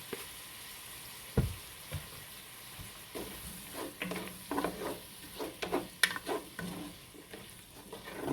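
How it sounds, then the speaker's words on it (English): Garlic cloves cooking in a soup pot for potato soup, giving a soft sizzle with scattered stirring clatters and spoon knocks close by, no voices. "we're going to add like 3 cloves of garlic in. I'm going to let this cook a minute"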